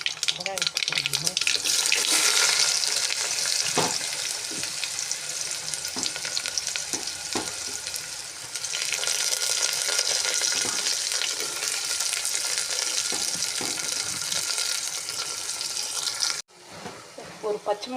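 Onions frying in a pan, a steady broadband sizzle that fills the whole clip, with occasional stirring clinks and a brief drop in intensity near the end.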